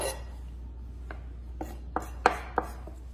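Knife chopping onion on a cutting board, several separate crisp cuts spaced irregularly, close and fairly faint over a low steady hum, with no talking.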